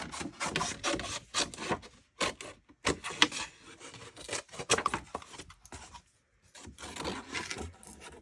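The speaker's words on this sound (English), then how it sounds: "I'm going to cut around with scissors first" Irregular scraping, rasping strokes of scissors cutting paper, close by and alone, with short pauses between bursts of cutting.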